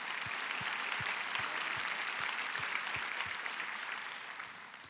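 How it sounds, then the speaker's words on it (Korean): A church congregation applauds during a testimony at a Korean prayer meeting. The clapping is steady and moderately loud, with a regular low thump beneath it, and it fades slightly toward the end. "주님께 영광의 박수를 올려드리고 싶습니다"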